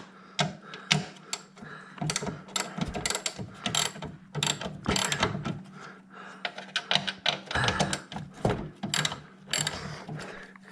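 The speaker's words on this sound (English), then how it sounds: "if you're lazy, like me, you've got an electric ratchet" An electric ratchet works on a Mercedes E350 front strut, giving close, loud bursts of rapid mechanical clicking. Short runs come in irregular succession with brief pauses between them.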